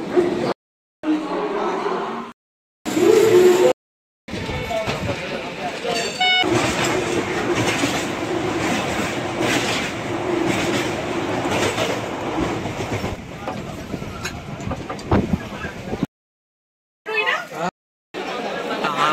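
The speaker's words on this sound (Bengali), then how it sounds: "তাই এই হচ্ছে হলদিয়া লোকাল।" A Haldia local train runs along the line, its steady rolling rattle and clatter heard from on board, with people chattering over it and several abrupt gaps of silence.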